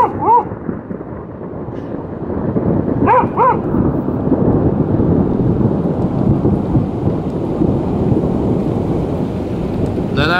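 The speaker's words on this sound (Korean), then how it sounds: "레나야, 너 비 맞는다" Heavy rain pours steadily throughout while thunder rumbles low and continuous, with a dog's brief yelps near the start and around three seconds.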